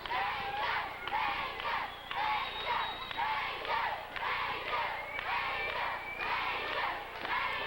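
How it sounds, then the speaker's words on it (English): A wrestling crowd in a school gym in Reading, Pennsylvania chants in loud rhythmic waves that rise and fall steadily, filling the hall. "And the crowd is chanting for Ranger."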